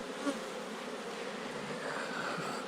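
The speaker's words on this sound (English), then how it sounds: "the bees are getting a little defensive with me" Defensive honey bees swarming around an open hive while smoke is applied, a dense, continuous buzzing drone close to the listener with no talking.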